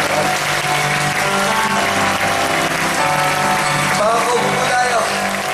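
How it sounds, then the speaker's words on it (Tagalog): Sustained, loud applause fills a church service, a dense, even wash of clapping from the congregation that continues throughout, with voices audible beneath it. "Malakas na palakpak po sa Panginoon"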